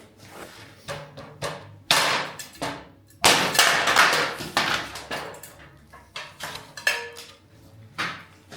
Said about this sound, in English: Step 1 is to remove the drywall.